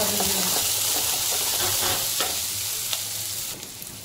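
Garlic and green chilies roast in a hot pan with a loud, close sizzle and hiss, stirred with a few scraping strokes, the frying easing slightly toward the end.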